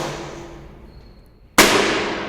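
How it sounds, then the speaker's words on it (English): A low voltage circuit breaker closes with one sharp, loud mechanical clack as its spring discharges, preceded by a fading hum and followed by a ringing decay as the charging motor starts rewinding the spring. "as soon as the spring got discharged, the motor started rotating and it starts to recoil the spring"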